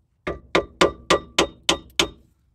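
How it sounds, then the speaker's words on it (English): Seven evenly spaced hammer taps on the rusty wheel cylinder of a 2009 Jeep Patriot drum brake, each a sharp metallic clang with a short ring, close and loud with no voices. "now that I've got that bolt out, I'm going to give the wheel cylinder just a little tap"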